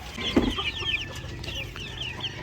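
Chickens cluck and hens murmur close by on a farm, with thin chick peeps scattered throughout the short stretch.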